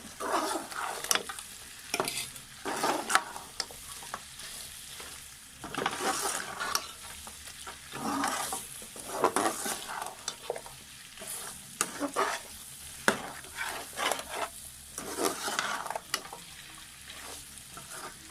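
Ginger garlic paste is stirred in a pot, sizzling while a spoon scrapes in irregular strokes, the stirring loud and close with pauses between bursts.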